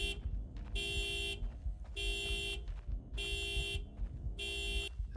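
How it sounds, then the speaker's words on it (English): A car horn blares in a horror video game, sounding four loud, evenly spaced blasts of about half a second each over a rumbling background. "That's a loud-ass car."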